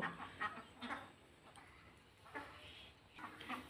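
Farmyard poultry cluck and call in a series of short, fairly faint bursts spread unevenly across a quiet outdoor background.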